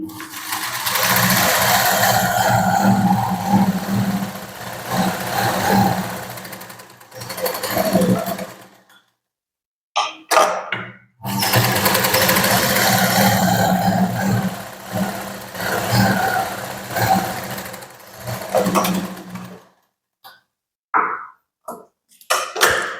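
A sewing machine runs in long, steady bursts while stitching a katori blouse, a loud close motor whir with needle chatter, stopping briefly around the middle and then ending in short, choppy runs.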